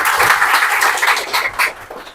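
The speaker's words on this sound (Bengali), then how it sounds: "সবাই করে জোরে হাততালি" A gathered audience claps loudly together, a close, dense burst of applause that holds steady for a couple of seconds before thinning slightly.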